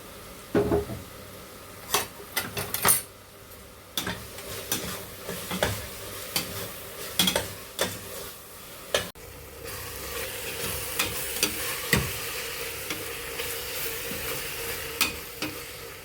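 Onions with turmeric sauté in a pan for Thalasseri mutton biriyani: a steady close sizzle runs throughout, broken by repeated sharp scrapes and knocks of a spoon stirring against the pan, with the frying growing denser in the second half.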